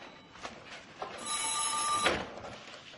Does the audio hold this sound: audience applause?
no